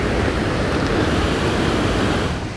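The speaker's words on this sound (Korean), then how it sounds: "이게 얼마 만에 들어보는 계곡 소리야." A mountain valley stream on Yumyeongsan rushes in a steady, loud, broadband wash, close by and continuous.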